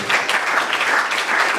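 A burst of crowd applause at a tech fellowship graduation ceremony, dense and loud clapping throughout the short stretch, with no speech over it.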